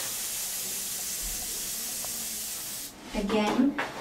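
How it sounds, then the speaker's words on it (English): A steady fine spray of tattoo stencil liquid onto skin hisses close by for several seconds, then stops, followed by a few soft clicks and handling noises. "I'm going to just spray in the areas that are flat"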